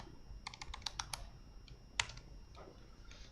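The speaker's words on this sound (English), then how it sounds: "I know I'm typing fast." Quick bursts of keystrokes clatter on a computer keyboard during coding, a fast cluster of sharp clicks followed by a few scattered taps, close and clear.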